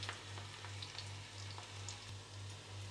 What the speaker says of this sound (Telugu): మంచి కలర్ వచ్చే వరకు బాగా ఫ్రై చేసుకోవాలి ఫ్రెండ్స్